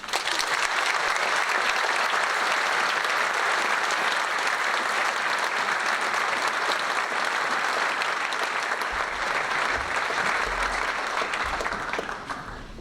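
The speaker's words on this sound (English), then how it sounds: "let's give them all a round of applause" A large audience at a 2018 matric valedictory service gives the matric class a long, steady round of applause, dense and even throughout, with no speech over it before it tapers off at the end.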